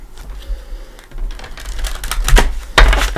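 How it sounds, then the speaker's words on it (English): Tarot cards are shuffled by hand in a few quick riffles and snaps, close and crisp, with rustling and tapping between bursts and no talking. "But I do like to give it a shuffle or two with you here."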